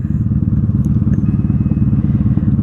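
A 1995 Honda Magna V45 VF750C custom motorcycle's V4 engine on a night ride, with a steady, close, low rumbling burble that keeps an even throbbing pulse throughout.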